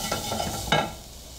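Onion soup base sautéing with saffron and colorau in a pan, a close sizzle with a few quick stirring scrapes, then a sharper burst before the frying noise fades lower.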